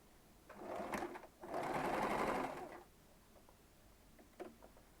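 A sewing machine stitches a garment seam starting from the center back, with a short burst of whirring followed by a longer, steady run of about a second, close and clear, then stopping to near quiet.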